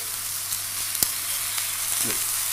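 A steak sears in a hot pan with a steady, loud sizzle, broken by a sharp tap and a brief scrape as tongs press the meat down.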